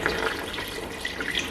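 Tap water running into a pot of meat being batch cooked, a continuous close splashing pour with no talk.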